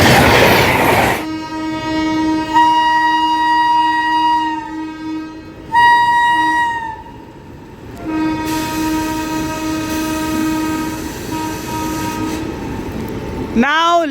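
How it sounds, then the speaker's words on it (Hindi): The Lichchavi Express (14005) passenger train on its Sitamarhi to Anand Vihar run sounds several long, loud horn blasts of steady tone over the rumble and clatter of the moving train. "हॉन्किंग भाई कमाल का है।"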